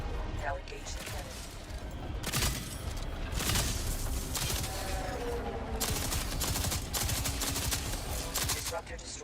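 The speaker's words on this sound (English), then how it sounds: "Now engage the cannon." In a video game, a cannon fires in rapid bursts of sharp, heavy blasts that crack and boom repeatedly. Dense battle noise fills the gaps between shots.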